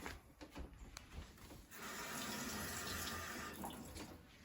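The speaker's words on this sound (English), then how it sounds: "I'm going to rinse this off" Water from a kitchen tap runs into a sink as a spoon is rinsed after measuring sugar, a short splashing stream that swells into a steady gush, close and alone.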